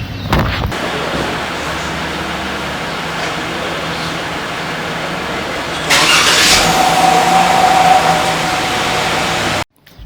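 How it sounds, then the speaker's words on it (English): A Jeep Wrangler engine cranks and starts with a brief burst, then settles into a steady idle that swells louder partway through before cutting off abruptly near the end. "as you heard the startup of the car, it was pretty insane"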